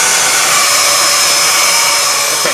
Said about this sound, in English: Now pushing the power button, you also got to push down the brush button